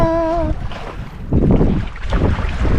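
Wind buffets the microphone aboard a sailboat under sail off Macleay Island, rising into louder gusting rushes after a brief tone at the start, close and continuous.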